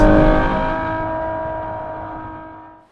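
A Novitec-tuned Ferrari 12Cilindri V12 holds a loud, steady engine note close by, then slowly fades away to silence over a few seconds.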